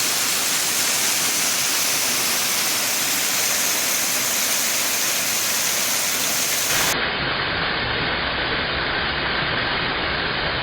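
Kirimutti Ella waterfall in Sri Lanka, where water pours into a deep pot-shaped pool, gives a loud, continuous broadband rush of falling water with no voices.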